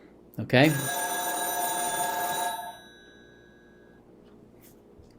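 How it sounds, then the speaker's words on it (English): A telephone rings during an economics lecture with a single bright, metallic bell burst that sustains for about two seconds and then fades, and a voice speaks briefly over it. "Sorry about that phone."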